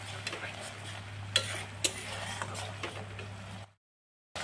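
A spoon stirs frying masala with garam masala powder in a pan while making aloo dum, with soft scraping strokes and sharp clicks over a low sizzle and a steady hum, then brief silence.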